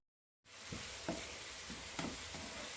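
Cumin seeds and tomato frying in hot mustard oil in a pan, giving a steady loud sizzle throughout, with a few sharp stirring clatters on top after a silent start.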